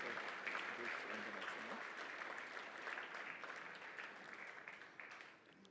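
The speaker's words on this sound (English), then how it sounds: "give a big round of applause to Merck Foundation" Sustained applause from a large audience at a Merck Foundation Africa Asia Luminary conference, dense steady clapping lasting throughout and fading slightly toward the end.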